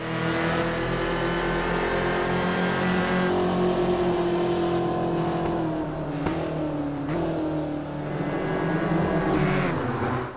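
Volkswagen Scirocco Cup race cars in the sim racing game Automobilista, a loud, close engine drone that rises and falls in pitch through gear changes and throttle lifts, continuous with no talking.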